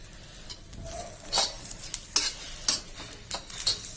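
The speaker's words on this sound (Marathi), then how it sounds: "आपण जो लसूण घेतलेला आहे तोही फ्राय करून घ्यायचा आहे" Garlic frying on a griddle gives a soft sizzle broken by several sharp scrapes and clinks of a spatula stirring, close and without talk.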